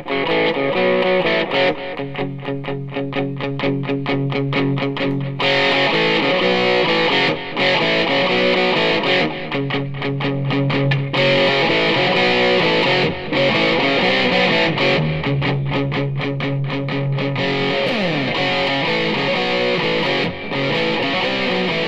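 Electric guitar played through a Boss DS-2 distortion pedal, a loud, heavily saturated tone with chugging rhythmic chords and sustained crunchy passages, played solo without talk.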